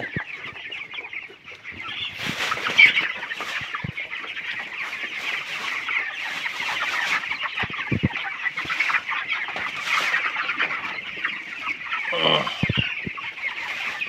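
A flock of 20-day-old broiler chickens clucks and chirps steadily in a dense, continuous chorus, close by and moderately loud, with no voices.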